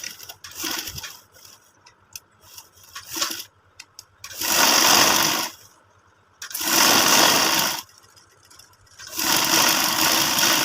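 Sewing machine stitching a gents collar band, loud close bursts of fast needle whirring in three long runs separated by pauses with soft handling clicks and fabric rustle.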